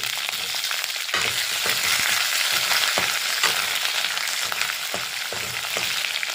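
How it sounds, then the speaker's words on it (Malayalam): Green chillies and curry leaves fry in hot oil in a pan for ginger pachadi, giving a loud, dense, close sizzle broken by rhythmic scraping strokes of a stirring spoon. "പച്ചമുളക് ഇട്ടിട്ടൊന്ന് ഇളക്കാം."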